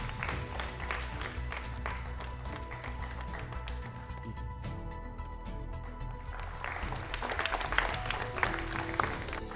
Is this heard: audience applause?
yes